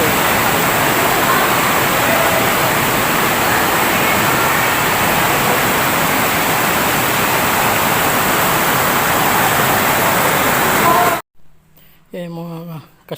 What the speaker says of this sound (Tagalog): Tubig na yun.